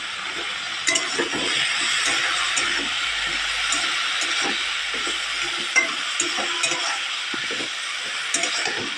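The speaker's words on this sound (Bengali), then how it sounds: "লবণ হলুদ দেওয়ার পরে ভালো করে একটু নেড়ে নেব।" Food being stirred in a frying pan after salt and turmeric go in, a steady sizzling hiss with scattered scraping and clinking of the spoon throughout, no voices.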